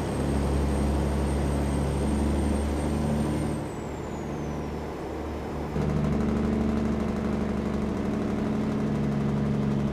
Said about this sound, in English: Can't wait till SCS fixes these engine sounds